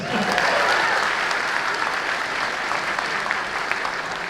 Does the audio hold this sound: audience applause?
yes